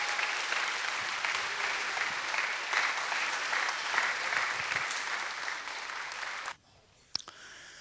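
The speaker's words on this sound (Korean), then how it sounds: "우리 뜨거운 박수로 환영하겠습니다" A church congregation gives warm applause welcoming the pastor to the pulpit, sustained and dense for over six seconds before cutting off abruptly into near silence with a brief thump.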